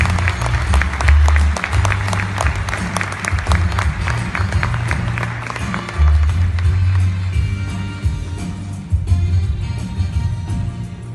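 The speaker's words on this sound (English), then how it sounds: "Please give a strong round of applause for the Nashville Area Hispanic Chamber of Commerce." Applause rises over loud, thumping music with a heavy bass beat at a Hispanic chamber of commerce awards event, the clapping fading after a few seconds while the music carries on.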